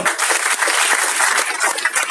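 Audience applause at a business creators' awards ceremony, a dense and steady wash of many hands clapping close by, holding evenly for about two seconds with no talk over it.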